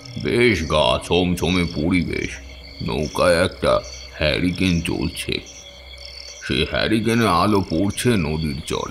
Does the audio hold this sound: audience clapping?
no